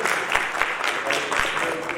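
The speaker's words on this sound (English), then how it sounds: "Yes, a big round of applause." Brief round of audience applause at a tax policy forum panel, moderately loud with a few sharper claps poking through the steady patter.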